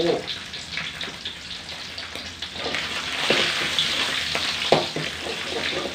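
Rat fat rendering in a pan for a large field-rat holy basil stir-fry, making a steady sizzle with louder bursts of spatter and stirring midway.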